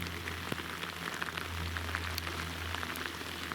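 Steady heavy rain pours down during a river rafting trip through autumn taiga, a dense continuous hiss of drops striking surfaces with a low hum underneath and no voices.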